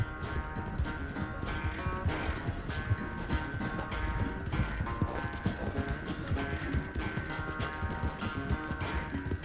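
A horse's hooves clip-clop steadily at a quick pace in Red Dead Redemption 2, a continuous rhythmic trot set against background music.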